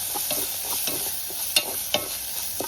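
Spices sizzle in hot oil during a tempering, with ground homemade garam masala mixed in; a steady frying hiss runs throughout, broken by several sharp clinks and scrapes of a spoon stirring the pan, close and alone without voices.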